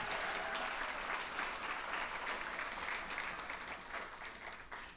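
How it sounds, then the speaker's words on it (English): An audience in an event hall gives a sustained round of applause for the teachers at the 2024 Boca Rotary Teacher of the Year Awards, dense and even throughout, easing off slightly at the end, with no speech over it. "Let's give our teachers another round of applause."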